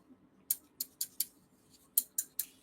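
Curved scissors, new and shaped more like a clamp, snip and click in seven sharp, distinct bursts spaced about a quarter second apart, close by and fairly quiet against a still background.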